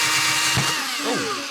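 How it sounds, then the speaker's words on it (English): Power drill boring into a garbage-built drone part, a short whining burst with a rising and falling pitch, close and alone. "I then glue to the front and drill."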